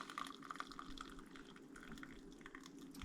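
Freshly brewed sassafras tea is poured out, a soft, quiet trickle and splash of liquid heard up close in a hushed outdoor setting.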